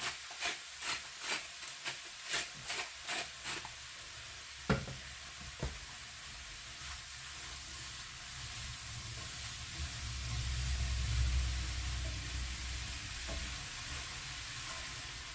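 Vegetables for vegetable caviar frying in a pan, with a quick series of rhythmic stirring scrapes at first, then a steady soft sizzle that swells slightly later on.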